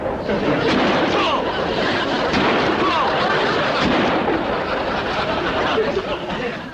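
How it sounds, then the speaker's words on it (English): Shotgun blasts fired at thrown clay targets come as a dense, loud, booming rumble of overlapping shots with echo, filling the whole stretch without pause. "I think you better use the shotgun"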